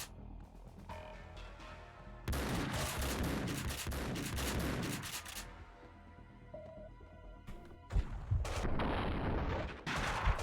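Allied covering fire in the 2003 PC game Max Payne 2, dense bursts of gunshots crackling continuously for several seconds, then pausing before another loud volley with sharp individual reports.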